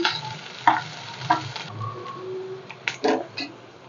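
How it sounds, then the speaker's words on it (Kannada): Sliced onion and curry leaves frying in a pan for a chicken liver gravy, a soft sizzle broken by several sharp stirring scrapes and clatters at irregular intervals, with faint bird coos in the background. "ಈರುಳ್ಳಿ ಚೆನ್ನಾಗಿ ಫ್ರೈ ಆಗಲಿ"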